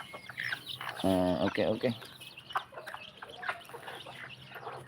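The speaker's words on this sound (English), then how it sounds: "We have 6 chicks here. And this mama hen here." A mother hen clucks near a brood of six chicks, with a loud burst of harmonic calls in the middle and softer clucks and chirps around it, and a person speaking briefly.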